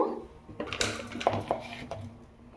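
A lid goes onto a cooking pot of dosakaya pappu, a dal with cucumber, onion, green chilli and tamarind, making a few close metallic clanks and knocks spread over a couple of seconds, with faint kitchen noise behind.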